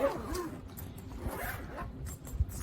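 A travel bag's zipper is pulled closed while packing for a summer trip, one close, continuous rasping zip lasting a couple of seconds.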